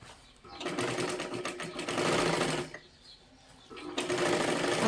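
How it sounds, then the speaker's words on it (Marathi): Sewing machine double-stitching the full sleeve of a princess-cut blouse, whirring in two close, loud bursts of rapid stitching separated by a short pause. "पूर्ण बाहीला आपल्याला डबल शिलाई मारून घ्यायची आहे."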